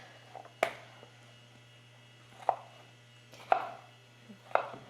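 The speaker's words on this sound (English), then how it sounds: "So I'm just starting right now by dicing them" A knife chops through tomatoes being diced for canning, giving four sharp, separate cuts at an uneven pace over a steady mains hum.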